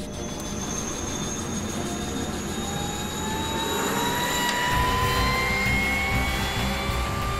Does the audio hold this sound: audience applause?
no